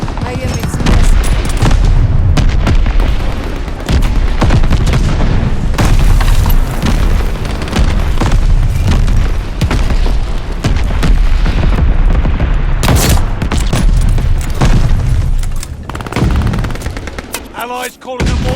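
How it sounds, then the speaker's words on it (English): Mortar fire explodes in a sniper video game, dense booming blasts mixed with rapid gunfire bursts, loud and near, continuing almost without pause. "Allies calling them mortar fire."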